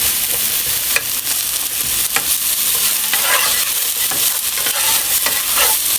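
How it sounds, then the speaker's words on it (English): Italian sausages are stirred and sautéed in a hot pan, with a loud, constant sizzle and repeated scraping, clattering strokes from the stirring. "And I'm just going to slosh these around a little bit. Stir them around."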